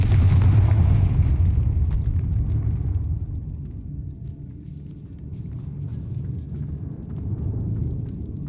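A Confringo fire spell bursts in the Hogwarts Legacy video game, a loud booming blast at the start that rumbles and fades into a lower, crackling tail with no talk over it.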